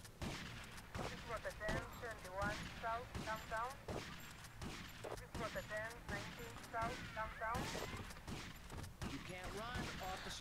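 Dense gunfire in Grand Theft Auto: Vice City crackles in repeated bursts and volleys, with busy game sounds and talk mixed in throughout.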